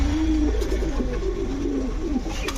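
Pigeons coo in a loft where Budapest, Shahranpuri, racer and Giribaz pigeons are kept: a steady low cooing runs throughout, continuous and fairly loud against a dense background murmur of birds.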